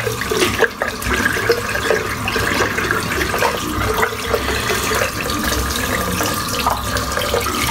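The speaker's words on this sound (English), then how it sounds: "I'm just going to rinse out the soap now." Tap water gushes steadily as a shaving brush is rinsed of shaving soap, a close, loud, continuous splashing with no talk over it.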